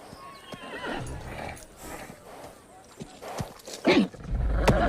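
A mustang neighs loudly in an animated film scene while its hooves clip-clop on the ground, with a final sharp whinny and thudding steps close by.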